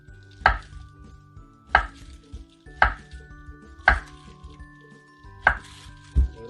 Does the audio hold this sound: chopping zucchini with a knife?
yes